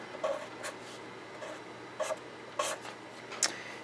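Pen or chalk writing out a numeric calculation, heard as a few short scratchy strokes in separate bursts, faint and close, with quiet pauses between and no voices.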